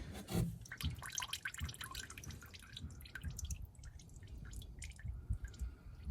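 Motor oil drains from a 2020 Hyundai Santa Fe 2.4L, heard as faint, continuous dripping and trickling liquid with soft scattered drops.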